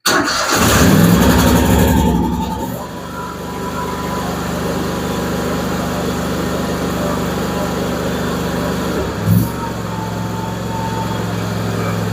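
Simplicity Prestige lawn tractor engine cranking and firing with the throttle up and choke on, a loud starter whir that catches into a steady close idle hum for the remaining seconds.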